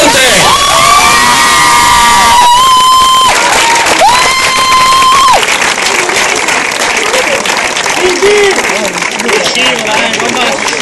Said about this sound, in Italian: applauso, applauso, applauso forte!